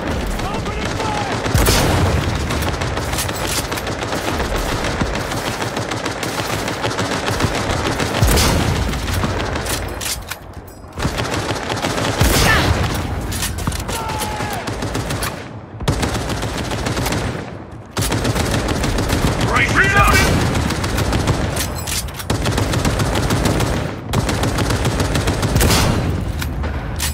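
Gunfire in the video game Cyberpunk 2077 on Very Hard difficulty: loud rapid bursts and sustained automatic volleys with booming impacts, broken by brief lulls, with voices shouting over the shooting.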